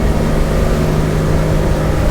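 A Tesoro T40 speedboat engine roars steadily at high speed, loud and close, with rushing water and wind blended into the drone.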